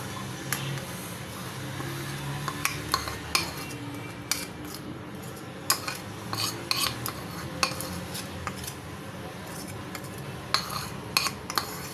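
Chicken being mixed into spice masala in a bowl, with repeated clinks and scrapes of a utensil against the bowl in an irregular rhythm, fairly close.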